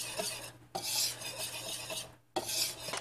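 Apple muffin batter with ginger is mixed in a bowl: a spoon rasps and scrapes against the sides in three separate close strokes, each broken by a brief pause.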